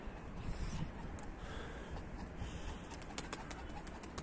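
Faint pigeons coo softly in the background amid a steady low ambient hiss, with a few light scattered chirps.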